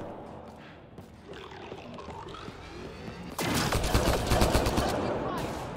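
Rapid automatic turret fire in the shooter game Mass Effect Andromeda, a dense rattling burst of shots that starts suddenly midway and stays loud over a busy background of game noise.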